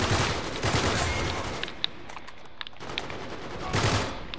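Sustained gunfire in Uncharted 3 co-op during the airport level, a dense rattling fusillade of rapid shots throughout with brief lulls, loud and continuous.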